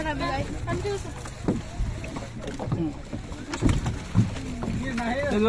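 A speedboat ride on Patratu Lake, with the rumble of the boat and rushing wind noise running throughout while people talk over it.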